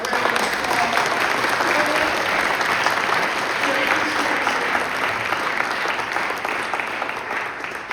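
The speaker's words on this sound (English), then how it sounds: "give the entire Commerce Department team a round of applause" Sustained audience applause, loud and steady throughout, a dense wash of many hands clapping that tapers slightly at the end.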